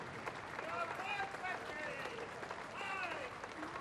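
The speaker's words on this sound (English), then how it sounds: "The applause from the crowd for those who have served in the name of their country" A crowd along an Anzac Day march in Brisbane applauds passing veterans in a steady, distant wash of clapping, while a broadcaster's voice talks over it.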